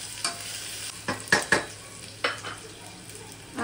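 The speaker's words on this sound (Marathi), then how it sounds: "कांदा व्यवस्थित गुलाबी होईपर्यंत परतून घेऊया।" Chopped onion is stirred and sautéed in a hot pan while cooking a spiced rice dish. A soft sizzle runs underneath and a few sharp scraping strokes of the spoon come through clearly, close to the pan.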